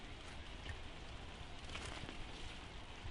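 Steady rain falls in a dense, even hiss of drops pattering on surfaces, constant and unbroken throughout with no voices.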